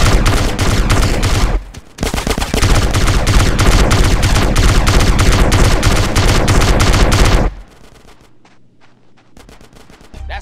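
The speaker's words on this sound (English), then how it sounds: "Get some suppressing fire in there!" Heavy sustained automatic gunfire in GTA San Andreas, a relentless loud rattle of rapid shots with a short break near the start, then stopping abruptly into scattered distant pops.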